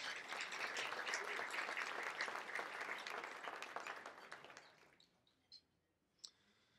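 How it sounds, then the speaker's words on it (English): Banquet audience at an agricultural hall of fame dinner applauding, a steady wash of many hands clapping for about five seconds before thinning into a few scattered claps and near silence. "So let's give them a round of applause"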